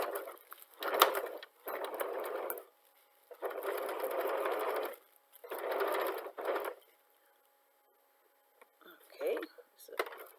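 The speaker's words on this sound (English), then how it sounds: "you place it under your presser foot and you begin stitching." A sewing machine stitches fabric patchwork for a handbag in several bursts of rapid, whirring needle strokes, loud and close, separated by quiet pauses, with brief sounds of handling between runs.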